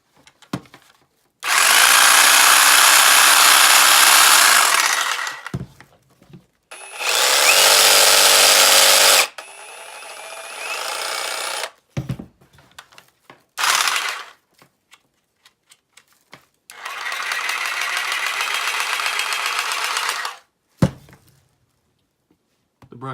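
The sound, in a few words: Ryobi brushless and corded reciprocating saws cutting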